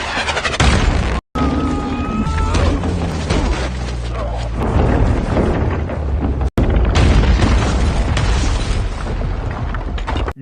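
A bazooka blast from a film action scene booms loudly with a deep rumble, mixed with dense soundtrack music and debris noise across the whole stretch.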